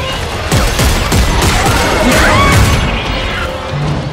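Loud, rapid gunfire from the video game Dead Space 3 in co-op, dense bursts of shots with crashing impacts and mechanical clatter, continuous and close.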